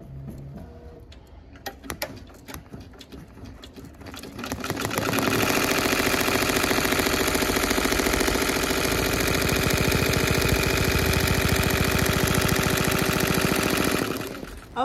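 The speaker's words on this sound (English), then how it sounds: "So now it is doing the placement stitch of the design that I" An embroidery machine sewing a placement stitch on a hooped satin baseball jacket: a few start-up clicks, then a loud, rapid, steady mechanical chatter of needle strokes that runs continuously until it stops near the end.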